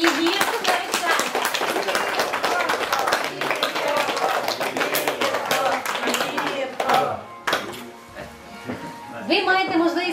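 Guests applaud newlyweds just pronounced husband and wife at a Ukrainian civil wedding registration, steady clapping filling the room with overlapping voices throughout.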